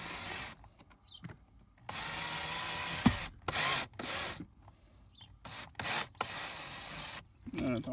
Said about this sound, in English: and just drill in a little bit.